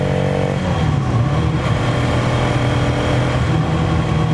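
A 2026 Bajaj Pulsar NS200 motorcycle engine drones loudly and continuously during a ride, its pitch dipping briefly and then holding steady under road and wind noise.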